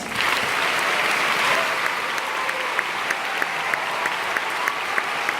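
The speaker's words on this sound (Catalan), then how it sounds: "que donem un fort aplaudiment al piano en Xavi Torres" A school Cantània concert audience claps for pianist Xavi Torres, a sustained dense wash of applause at steady volume with no voices over it.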